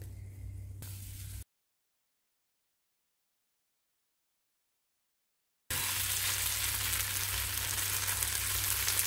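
Chettinad kara adai batter sizzles on a hot griddle, a steady close hiss that drops out into a few seconds of silence before returning louder and fuller.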